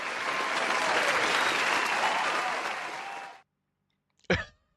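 Applause with cheering from a group, dense sustained clapping for over three seconds that cuts off abruptly, followed by silence and a brief throat-clearing cough.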